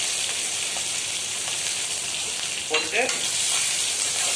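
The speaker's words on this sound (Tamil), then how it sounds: "எண்ணெய் லைட்டாக ஒரு 10-20 செகண்ட் வச்சு நல்லா அப்படி வதக்கிட்டா போதும்" Crushed ginger, garlic, coriander, curry leaves and green chilies fry in hot oil for mutton dalcha, giving a steady close sizzle with light stirring scrapes and a brief spoken word.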